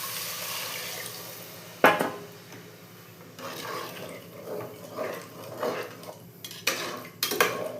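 Measured water is poured from a tumbler into samba rava and moong dal in a cooker for kichadi. A metal clank opens it, followed by a soft rushing pour and a few more utensil clinks near the end, with no talk.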